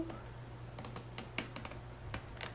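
Scissors cutting cardstock for a center slide pop-up card, a run of short crisp snips spaced irregularly over a steady low hum, close and fairly quiet with no talking.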